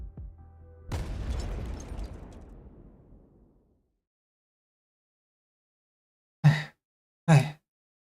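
In an audio drama, an explosion goes off inside a cavern: a deep boom with a long rumbling decay, then silence broken by two short, sharp blasts.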